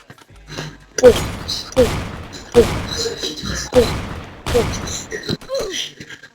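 Sniper rifle fire in a Roblox game: five sharp, booming shots at an even pace, roughly one per second, loud and close, with faint game sounds between them.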